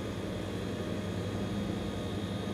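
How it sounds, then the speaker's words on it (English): Steady, loud drone of Rolls-Royce Dart turboprop engines on an HS748 airliner in flight, rendered in a flight simulator, with a constant low rumble and whining tones holding unbroken throughout. "those are Rolls-Royce Dart engines"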